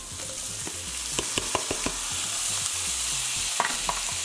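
Tomatoes go into a sizzling pan of summer squash and corn for a fusilli bucati pasta dish, giving a steady close, bright frying hiss with a few sharp utensil clicks and taps scattered throughout.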